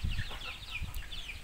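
Chickens in an Indonesian poultry pen, clucking in short low bursts with a few brief higher calls, fairly close and steady, with no talk over them.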